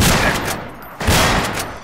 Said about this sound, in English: this pump shotty is amazing